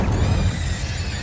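The Incendio fire spell is cast in Hogwarts Legacy: a quick whooshing burst of flame that flares up loudly at the start and then settles into a crackling, sustained fiery hiss.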